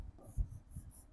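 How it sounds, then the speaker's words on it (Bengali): Marker or chalk strokes on a classroom board during a Bengali physics lesson for medical and dental exam candidates, a few short scratchy squeaks at an even pace, close and clear, with no talking. "আমি এখানে লিখি"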